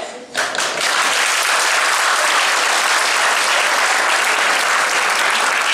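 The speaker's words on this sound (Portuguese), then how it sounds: "Palmas para este herói." Audience applause after a teen theatre play, bursting in abruptly and then holding as a loud, dense, continuous clapping to the end.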